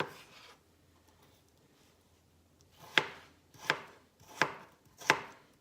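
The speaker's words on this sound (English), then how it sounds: "Then you take your knife, cut it." Salad ingredients being cut with a knife for a chicken salad: after a quiet start, four crisp, evenly spaced knife chops land on a board, close and clear, with no talk.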